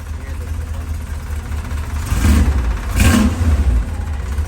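A 1982 Chevy C10 short bed pickup engine runs low on fuel, a rough idle that surges twice in quick revs, with people talking over it.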